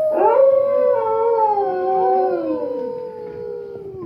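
A dog named Rover lets out one long, wavering howl that bends up and then slowly sinks, loud and close, tapering off after about four seconds.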